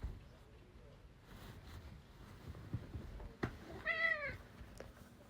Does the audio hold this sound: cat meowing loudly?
yes